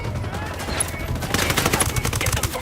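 Rapid bursts of gunfire in the video game Ghost Recon Wildlands, a dense volley of shots that gets heavier and more rapid partway through, close and loud, with some voices mixed in.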